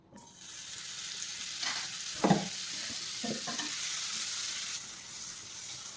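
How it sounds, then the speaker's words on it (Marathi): Paneer frying in butter and oil in a hot pan, a steady broad sizzle with a few soft stirring scrapes and clinks partway through, close and continuous, with no speech. "आता आपण पनीर तळून घेऊ. हे बटर टाकून घेऊ."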